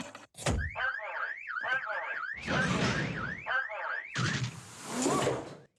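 A loud electronic safe alarm in the 1994 film The Ref whoops in rapid rising-falling sweeps, interrupted by sharp bangs and crashing noises, close and harsh.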